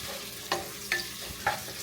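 Sliced onions frying in a pan on a home kitchen stove give a soft, quiet sizzle, broken by three short scraping stirs of a spoon.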